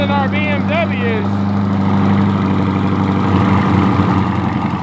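A C8 Corvette with an AWE track catback exhaust settles into a loud, deep, steady idle after start-up, close by, with people talking over the rumble.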